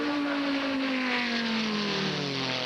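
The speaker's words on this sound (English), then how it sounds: "And out of the pits goes Carl Wendlinger." A GT race car at Monza in 1999 accelerates out of the pit lane, its engine holding a loud, sustained drone that slowly drops in pitch as it pulls away, with no talking over it.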